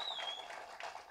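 A crowd applauds director Sathyapathi at a film trailer launch, with a steady wash of clapping and a thin whistle rising over it, all in a very short moment.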